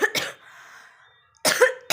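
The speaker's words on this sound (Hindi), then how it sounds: "थोड़ा मतलब खांसी सही नहीं हो रही है" Two sharp coughs, one at the start and one after a pause, with a third beginning at the end; close and fairly loud, no talking.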